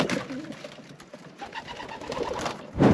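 White pigeons coo softly in a flock on a hillside in Saudi Arabia, low murmuring calls repeating close by with some wind and rustle, ending in a louder burst near the end.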